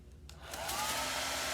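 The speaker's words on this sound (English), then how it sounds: "we have our thrust, which is our blow dryer, and we're gonna make our parachute lift and stay up" A blow dryer switches on and ramps up into a loud, steady rush of air, used as thrust to lift a small parachute.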